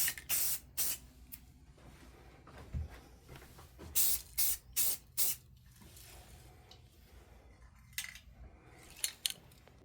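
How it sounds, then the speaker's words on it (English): Self-etching primer sprayed from an aerosol can onto a rusty old wrench, several short sharp hissing bursts of varying length with quiet pauses and small handling clicks between them. "I'm going to hit it with this self-etching primer"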